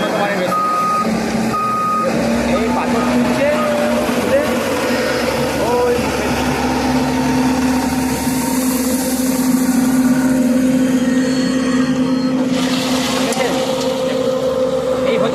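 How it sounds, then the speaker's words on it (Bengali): A construction machine engine runs steadily while lifting stones at a railway station under repair, with reversing beeps sounding repeatedly over the drone and people talking nearby. "উন্নত মানের মেশিন এই পাথর তুলছে"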